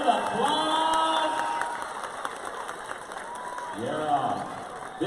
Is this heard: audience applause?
yes